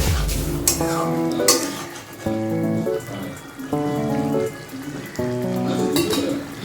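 Two whole, uncut green chillies drop into hot oil for a vegetarian potato and pumpkin curry, giving a loud sizzle and spatter at first, then a steady frying crackle under background music.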